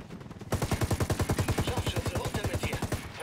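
Loud, close automatic gunfire from the video game Ghost Recon Wildlands, a rapid steady stream of shots lasting a couple of seconds.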